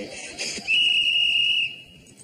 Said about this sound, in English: And there goes the whistle.